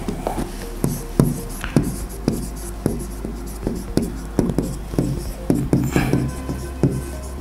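Marker or stylus strokes tapping and sliding across an interactive display board, a steady run of short, close scratches and taps at an uneven rhythm, with no voices.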